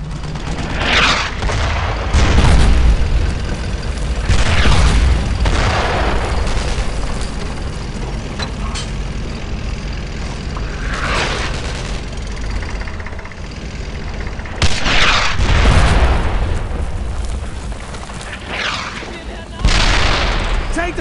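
Mortar explosions, deep booms and bursts of gunfire in a Brothers In Arms World War II cutscene, with heavy blasts recurring every few seconds over a constant battle rumble and voices talking.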